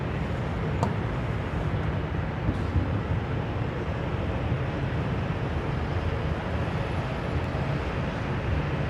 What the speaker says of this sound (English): 747 noise from the engines